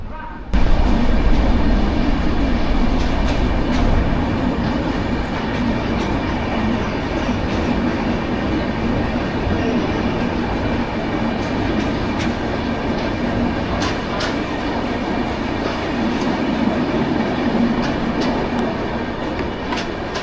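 The Baidyanath Dham–Puri Superfast Express runs at speed, heard from inside as a loud continuous rumble with rhythmic clickety-clack from the wheels over rail joints throughout.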